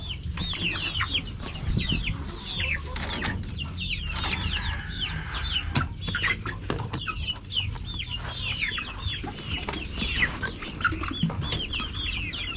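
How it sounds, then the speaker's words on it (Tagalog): Hungry young chicks and small hens cluck and peep busily while feeding at a new feeder in their pen, many overlapping calls close up, with scattered pecking and clatter throughout. "gutom na gutom na naman yung maliliit nating mga manok oh"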